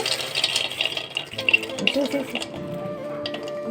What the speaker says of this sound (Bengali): তারপর এবার বাদামটা দিয়ে দেব।